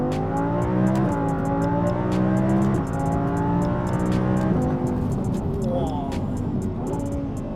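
An Audi R8 V10 rated at 610 hp drops through gears, the engine note stepping up sharply with each downshift and holding a loud, rich drone, while someone talks over it inside the car.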